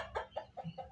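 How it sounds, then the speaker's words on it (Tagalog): Chickens in a backyard coop give four short, soft clucks in quick succession, heard faintly from a little distance. "May manok doon sa loob guys."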